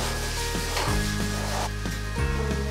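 Onion caramelizing in a hot pan gives a steady, loud sizzle and crackle, with scraping and stirring strokes recurring every second or so, close up and without talk.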